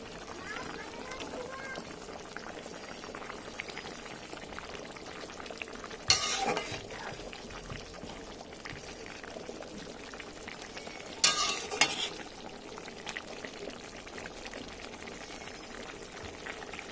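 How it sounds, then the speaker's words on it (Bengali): Rohu fish curry with eggplant bubbles in a pan, a low, continuous simmer broken by two brief clattering bursts as something is added or stirred. A voice talks throughout. "ঝোলটা ভালো মতন ফুটে গেছে, দিয়ে দেবো এর মধ্যে ভেজে রাখা মাছগুলো।"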